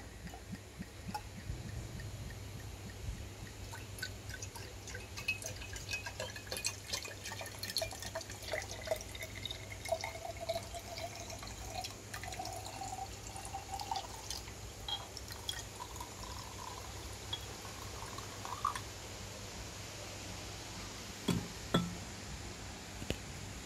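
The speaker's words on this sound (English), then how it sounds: "We'll fill it up here with tap water." Tap water trickling and dripping into an HHO cell as it is filled, a faint, steady wet patter with scattered drips, no voices.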